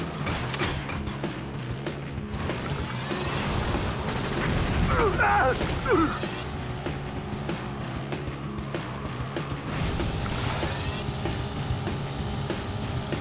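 Bursts of gunfire during a video game race, mixed into a steady hum of engines with a brief voice over the noise.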